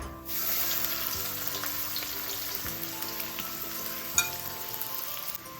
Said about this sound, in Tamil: எண்ணெய் சூடான உடனே சோம்பு சேர்த்துக்கிறேன் ஒரு பெரிய வெங்காயம் கட் பண்ணி வச்சுருக்கேன் இதை சேர்த்துக்கிறேன்